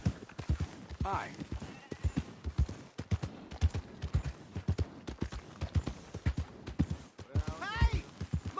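Horse hooves clip-clop steadily at a walking rhythm in Red Dead Redemption 2, close and fairly quiet, with a couple of brief whinnies and talk over the top.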